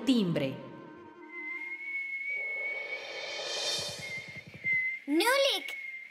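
A cartoon character whistles a long, steady high tune with rising slides, close and clear, after a short spoken line and with faint rhythmic tapping in the background.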